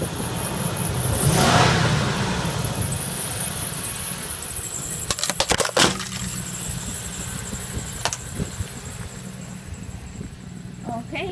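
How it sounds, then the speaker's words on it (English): A car engine idles and runs over a gingerbread house, with a low steady hum and a burst of sharp crunching and cracking near the middle, followed by fainter clatter. "So start the engine."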